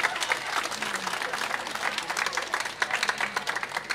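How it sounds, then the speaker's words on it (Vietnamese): The congregation at a Lunar New Year church Mass applauds. The clapping is dense and even, moderately loud, and continues evenly throughout without any talk. "Vỗ tay."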